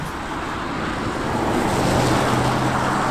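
A 2022 BMW M240i xDrive (G42) driving on a road, heard as a steady cabin rumble of tyre and road noise with a low engine hum that swells slightly, no talking.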